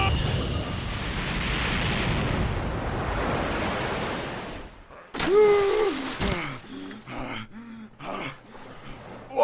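A sustained, roaring explosion from the video game Final Fantasy VII Crisis Core Reunion rumbles loudly for several seconds, then cuts off abruptly before a voice and scattered game sounds follow.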